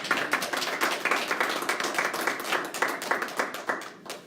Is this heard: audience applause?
yes